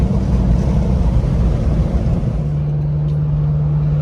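A Jeep Rubicon 392 on 38-inch tires launches from 0 to 30, its V8 roaring loudly and close, then dropping to a steadier, lower hum as the run ends; no speech is heard.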